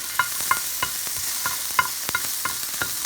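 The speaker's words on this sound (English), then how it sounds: "Then I'm going to stir a little bit." An egg-tomato curry with turmeric powder is stirred in a pan. Rhythmic scrapes and taps of the spoon against the pan repeat over a steady, loud sizzle, with no voices.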